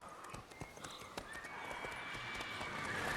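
Horse hooves gallop in The Witcher 3: Wild Hunt, a steady rhythmic clip-clop of repeated hoofbeats over a rising ambient wash that grows louder toward the end.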